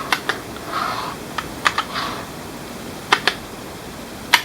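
Keys tapped on an HP Pavilion Gaming Keyboard 800, a handful of sharp, separate clicks in small pairs and singles with short gaps, close and fairly quiet over a faint room hiss.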